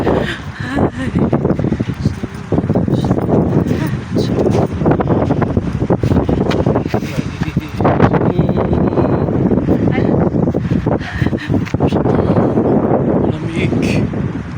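Cold wind blowing outdoors in a French town, roaring and buffeting a nearby microphone in loud, continuous gusts throughout.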